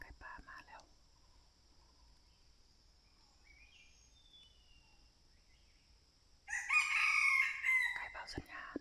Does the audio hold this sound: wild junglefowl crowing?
yes